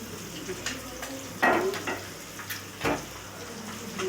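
An egg fries in a pan for egg biryani, a soft sizzle broken by a few scraping and flipping scrapes of a spatula, quiet and close.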